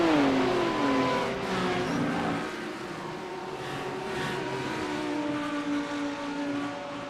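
Audi and Lamborghini GT3 race cars with V10 engines in a racing video game, a continuous high engine whine shifting pitch as the cars accelerate, moderately loud and without talk.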